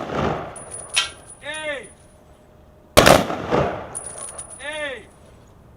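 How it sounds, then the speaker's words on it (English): A three-round rifle volley at an outdoor Veterans Day vigil in a memorial park, with two sharp, loud gunshots heard about two seconds apart. Each shot rings out and is followed by a brief echo, and a short spoken command comes between them. "Prepare to fire a 3-round volley."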